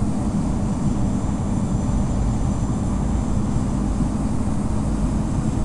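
An Airbus A320 takes off at Los Angeles International in the Infinite Flight simulator, its jet engines giving a steady, loud, broadband roar that holds even throughout.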